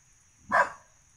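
A single short dog bark rings out in a jungle setting, sharp and fairly close against a quiet background with a faint steady insect-like whine.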